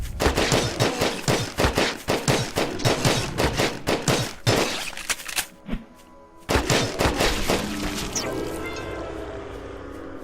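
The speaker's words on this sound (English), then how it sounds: "I think what we'll do first of all is probably shoot some mofos right now." Rapid gunfire while shooting enemies in the video game Grav: loud, fast volleys of shots for several seconds, a brief lull, then another burst that trails off with a ringing tail.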